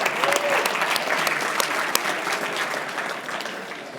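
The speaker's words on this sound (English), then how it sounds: "Congratulations let's give another round of applause to everybody." Loud, full audience applause from a seated crowd at a memory-improvement talk, a dense ongoing clatter of clapping with a few sharper claps standing out, easing slightly toward the end and with faint voices mixed in.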